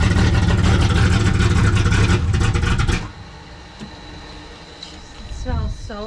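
A car engine revs loud and rough at close range for about three seconds with uneven, stuttering pulses, then cuts out to a quieter idle while voices murmur faintly toward the end.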